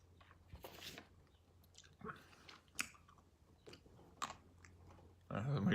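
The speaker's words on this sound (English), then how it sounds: "I'm just chewing up the lemon seed." Someone chews up a lemon seed close to the mic, giving soft, irregular crunching and biting bursts with quiet pauses between them, then a louder rustle at the very end.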